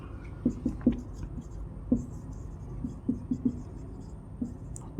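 A pen writes numbers on paper during a maths lesson, making short scratchy strokes in quick clusters. The sound is close and fairly faint, with soft voice sounds in the background.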